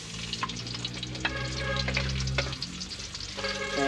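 Chopped onion sizzles and crackles steadily in a hot pan, an adobong balut base, with occasional stirring scrapes and no voices.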